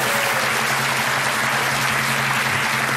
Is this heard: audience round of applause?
yes